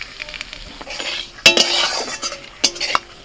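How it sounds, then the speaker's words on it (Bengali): Whole bay leaf, cardamom, cinnamon and clove sizzle in hot oil left from frying onions for chicken handi biryani, a steady crackle broken by sharp metallic clinks and scrapes of a stirring spoon against the pot. "বাকি যে তেলটা আছে ওই তেলের মধ্যে ফোড়নে দিচ্ছি তেজপাতা এলাচ দারচিনি লবঙ্গ"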